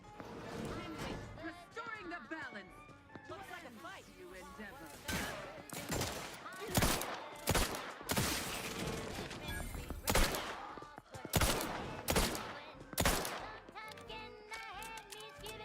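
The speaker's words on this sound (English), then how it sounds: "Glad you guys decided to shoot at them randomly." Gunfire in the sci-fi video game The Outer Worlds 2: loud, sharp shots and bursts crack irregularly across the whole stretch, mixed with in-game voices and combat clatter.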